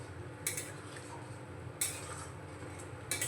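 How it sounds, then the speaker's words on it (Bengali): Peas, soaked frozen peas added to a pan for matar paneer curry, being stirred with a utensil: three sharp metallic scrapes against the pan at even intervals over a low steady background hum, no voices. "একটু নেড়ে নেব।"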